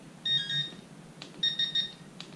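An Mi-6 metal detector pinpointer gives two short electronic beep sequences, each a bright tonal chirp pattern followed by a pause, clear and close with no talk.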